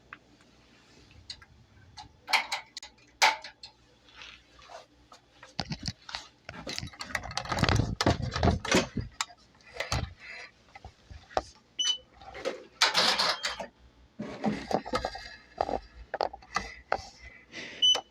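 A Bai Mirror 1501 embroidery machine stitches a patch, producing rapid rhythmic ticking and clicking in bursts, close and clear, with brief pauses between runs of stitching.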